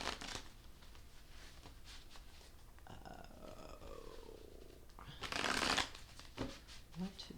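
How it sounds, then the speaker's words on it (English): A deck of cards is shuffled by hand, with crisp riffling bursts and softer shuffling rustles, fairly faint and close, while a voice talks quietly in between. "let me shuffle a little bit"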